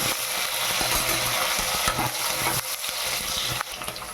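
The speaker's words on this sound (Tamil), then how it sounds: "இப்போ நம்ம வெங்காயம் போட்டுக்கலாம்." Onions fry in hot oil in a pan for a pulav, giving a steady bright sizzle with occasional stirring scrapes and clinks, close and continuous throughout.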